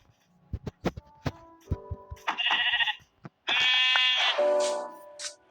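Several short synthetic Minecraft sheep bleats sound amid clicks and thumps, with brief game-like tones in between.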